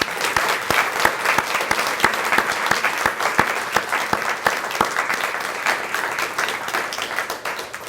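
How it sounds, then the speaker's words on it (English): Luncheon audience gives a warm round of applause for the 2019 Thomas R. Brown Scholars, steady dense clapping from a sizable crowd with a few sharper individual claps, tapering slightly at the end. "we'll give a nice round of applause to all of our 2019 Thomas R."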